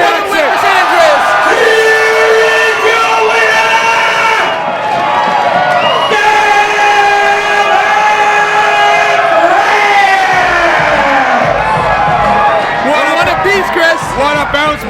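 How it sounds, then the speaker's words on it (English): A wrestling arena crowd roars and cheers wildly for a winning wrestler, a loud sustained wall of shouting voices with commentators talking over it throughout. "the crowd goes absolutely bonkers for their man, San Andreas"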